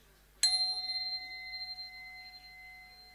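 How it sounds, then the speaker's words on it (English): A single bell is struck once, ringing out with a bright attack and a long, pure, slowly fading tone in a quiet room. "I'm going to ring my own bell here."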